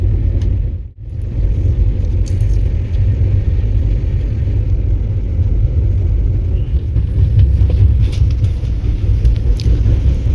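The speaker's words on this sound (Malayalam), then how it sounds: "ഇത് ഷൊർണൂർ കോയമ്പത്തൂർ മെമു ആണ് കേട്ടോ" The Shoranur–Coimbatore MEMU train rolls past, a loud continuous low rumble heard from close by that holds steady throughout.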